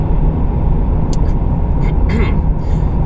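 A car driving from Eisenstadt gives a steady low road rumble and engine hum from inside the cabin, with a few brief higher clicks and squeaks over the drone.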